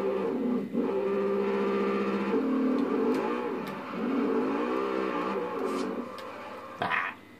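A Ferrari F50 engine in the racing game Forza Horizon 2 revs and holds a loud, steady mid-pitched drone that rises and falls with throttle changes, with a brief sharp burst near the end.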